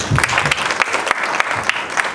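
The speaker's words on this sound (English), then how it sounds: "Clap for her, please." An audience at an education conference claps for a speaker, a loose scatter of individual claps with distinct sharp hits over a murmur of people, fairly close and uneven.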